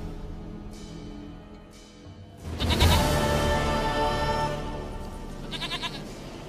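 A goat in The Witcher 3: Wild Hunt bleats loudly and close for several seconds, with a harmonic wavering cry, set against a steady in-game ambient background and some short higher bursts near the end.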